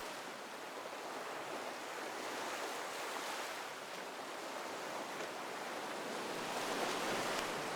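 Sea waves wash steadily around a swimmer in the water off Cobbold's Point by the Felixstowe shoreline, a continuous broadband surf hiss that stays close and even, swelling slightly near the end, with no talking.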